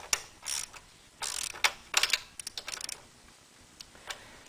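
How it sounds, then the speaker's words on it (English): A ratchet tightens bolts on a Suzuki DR 650 footpeg lowering kit, giving soft, close clusters of rapid clicks with brief gaps between strokes. "So you want to tighten these down, get them good and tight, torque them."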